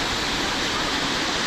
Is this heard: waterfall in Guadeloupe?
yes